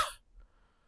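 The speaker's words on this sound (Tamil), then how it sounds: "இந்த கிளைமேட்டுக்கு வந்து இருமல் வந்து கொஞ்சம் வந்துருச்சு" A single short cough bursts out at the very start, close and sharp, then fades into near silence.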